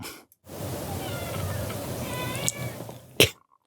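A house cat meows at a door, a drawn-out, wavering cry heard fairly close over a soft background hiss, ending with a brief sharp noise.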